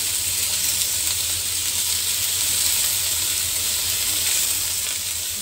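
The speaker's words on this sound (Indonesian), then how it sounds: "Digoreng sampai harum." Chicken wings sizzle steadily in a nonstick Teflon wok over low heat, a dense, even crackling hiss that continues without pause.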